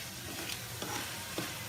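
Masala frying in oil on low gas for matar mushroom curry, a soft steady sizzle with a few faint scrapes of stirring, close and alone.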